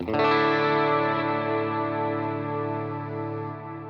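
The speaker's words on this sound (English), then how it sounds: "this one is just a bunch of reverbs combined and it's called swells" A sustained guitar chord swells in and hangs, washed in thick layered reverbs and shimmering modulation, slowly fading while the sound keeps ringing on after the guitar is turned down.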